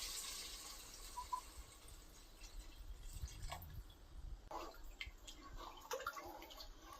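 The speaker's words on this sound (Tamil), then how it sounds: "இப்போ நம்ம தண்ணியை ஊற்றிக்கலாம்." Water poured into a pot of cooked mutton for biryani, a soft continuous splashing and trickling, faint and close, with small clinks near the end and no talk.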